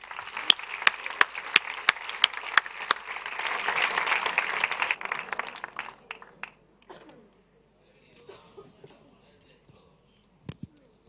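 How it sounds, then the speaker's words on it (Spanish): An audience applauds a tightrope walker's act at a live comedy variety show. Scattered but dense clapping builds over the first few seconds, then thins out and fades to a few faint, isolated sounds. "Fuerte aplauso para Juantón, el equilibrista."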